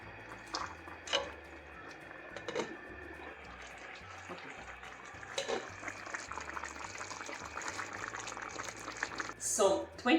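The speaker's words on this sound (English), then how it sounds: "So 20 minutes of boiling," Thai curry with baby bok choy bubbles and pops in a pot, irregular wet gurgles and sputters over a low background hum, with a louder burst near the end.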